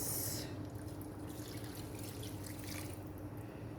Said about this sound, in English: I'm just going to add a bit of water, just a bit.